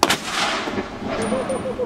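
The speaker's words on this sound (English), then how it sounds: "a cannon salute welcoming you" A ceremonial cannon salute fired at Fort Mackinac on Mackinac Island, one loud booming blast that rolls and echoes across the open air before fading into the surroundings.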